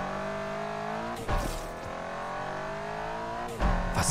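A go-kart in Need for Speed Unbound drives with a steady buzzing engine drone, revving and shifting pitch, with brief squeal or impact bursts twice along the way; no one speaks.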